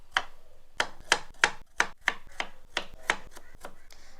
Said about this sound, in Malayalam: ഇനി നമുക്കിതൊന്ന് കഷ്ണങ്ങളാക്കി എടുക്കാം. എല്ലാം ഒരേ ലെവലിലാണ് കട്ട് ചെയ്യുന്നത്.